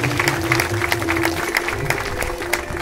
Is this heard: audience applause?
yes